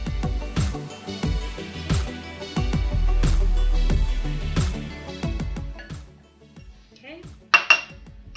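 Food is spooned into a baking dish, making a run of close, loud clinks and knocks of metal utensils against the dish. The clatter thins toward the end into a few sharp taps, with a brief spoken word.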